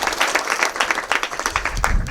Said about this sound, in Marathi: ज्ञानराजसाठी पण टाळ्या जोरात वाजवा